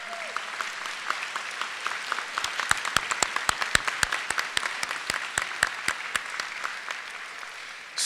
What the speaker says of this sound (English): Let's hear a round of applause for our student senators.